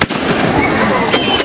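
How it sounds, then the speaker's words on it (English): Ship's cannon firing aboard the Sailing Ship Columbia at Disneyland, a loud close blast with a long rumbling decay, followed by sharp crackling reports. "For the cannon she be a mite loud, and the gunner's aim be a mite cool."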